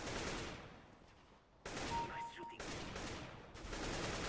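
Gunfire in Counter-Strike: Global Offensive during a deathmatch: dense, loud bursts of rapid shots that swell after a brief lull and keep going almost without pause to the end.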